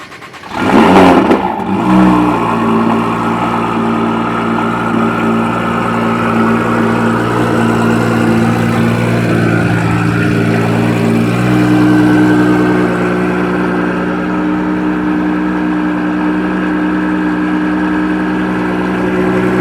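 A Nissan GT-R with a Liberty Walk body kit and a drilled exhaust tip, tuned past 2000 hp, starts with a loud crank and bark, then settles into a steady, rumbling idle close by.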